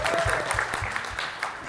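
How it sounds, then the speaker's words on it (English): An audience at a postmasters' breakout session claps together, producing a close, continuous patter of hands that holds steady throughout with a faint voice mixed in. "Everyone clap."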